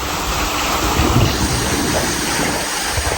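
Dirty backwash water gushing out of a sand filter on a drip irrigation system in a banana plantation, a loud continuous rushing roar with slight surges and no voices.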